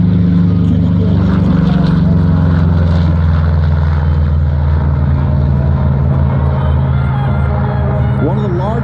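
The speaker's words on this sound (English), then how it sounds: "This is a P-47 Thunderbolt E model aircraft, meaning it's got the bubble canopy, powered by the Pratt Whitney R2800 cubic inch." Republic P-47 Thunderbolt propeller fighter with a Pratt & Whitney R2800 radial engine, a loud, steady droning roar close by at an air show, holding at a constant pitch for the whole stretch.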